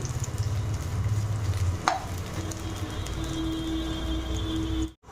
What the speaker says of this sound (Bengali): পেঁয়াজ রেখে দিয়েছি, পেঁয়াজটা লাল করে ভেজে নেব